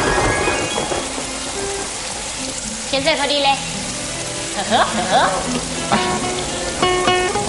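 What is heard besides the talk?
heavy rain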